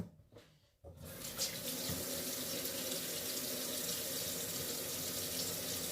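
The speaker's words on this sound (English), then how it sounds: "Let me get this water in this pot." Tap water runs into a cooking pot in a kitchen sink, a brief pause and then a loud, steady gushing flow that continues to the end.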